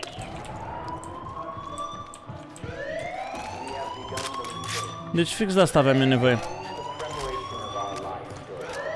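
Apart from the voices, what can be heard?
alarm siren in the video game Far Cry 5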